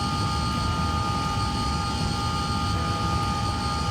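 A small propeller plane's engine in Microsoft Flight Simulator drones steadily and loudly, a constant hum with fixed tonal whine lines, no voices over it.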